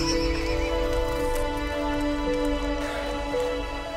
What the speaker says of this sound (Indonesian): kita dah boleh tengok kadang-kadang diorang bermain sesama sendiri atas kuda